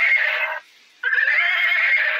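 A Blue Box brand toy horse gives an electronic neighing sound when pressed, a loud close whinny in two bursts split by a short gap, with no voices over it.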